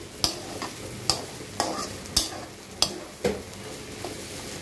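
Chickpeas and potatoes fry in a pan as a spoon stirs them, six or seven sharp scraping strokes in a steady rhythm over a soft background sizzle, close and clear with no talking.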